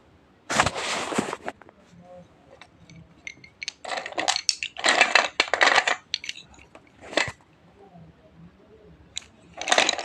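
Broken white slate pencils being handled and packed, with bursts of dry crunching, clinking and rattling at close range separated by quieter pauses.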